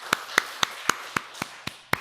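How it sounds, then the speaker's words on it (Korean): Church congregation clapping in slow steady unison, eight sharp evenly spaced claps over two seconds, fairly close and clear with no talk. "내게 영원한 생명 주신 하나님께 우리 박수로 영광을 한번 돌리겠습니다."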